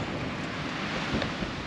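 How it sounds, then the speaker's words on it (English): Gusty wind outdoors buffets a GoPro microphone as steady low rumbling noise across the whole stretch, with no voices over it. "It's still windy out."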